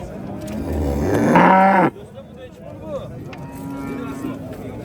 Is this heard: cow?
yes